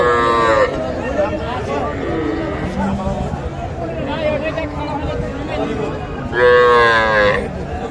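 Several young bull calves moo loudly over a busy crowd murmur at Kaharol cattle market, with long bellowing calls near the start and again near the end.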